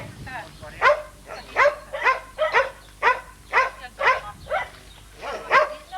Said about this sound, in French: Et c'est un chien de chasse, ça, alors.